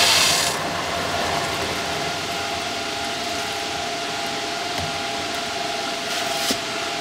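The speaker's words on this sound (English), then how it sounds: "I got to open my valve here." A valve is opened on a pressurized rainwater harvesting system with a pump, and a loud, steady mechanical rush follows that barely changes. It holds a faint tonal whine and has a couple of small clicks.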